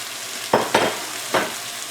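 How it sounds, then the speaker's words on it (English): Browned sausage goes back into a pan of vegetables for Thanksgiving stuffing, with three loud scraping stirs over a steady frying hiss, close to the listener. "we're going to transfer our sausage back into the pan with the vegetables"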